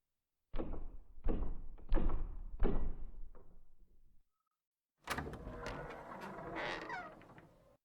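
Actor-made imitation of a heavy door knocker and door in a stage performance: about five loud, spaced knocking thuds over four seconds, a short pause, then a sustained rough rattling creak of the door opening, close and without speech.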